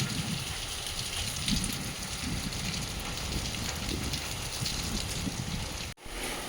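Heavy rain falling steadily, a dense, even hiss of drops that stays close and loud, with a brief break near the end and no voices.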